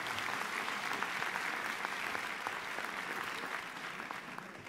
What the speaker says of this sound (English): So let's give another round of applause for our orator, Dr. Robinson